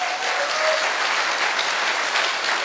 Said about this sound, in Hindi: इसके लिए एक बाप के खुद के लिए जोरदार तालियां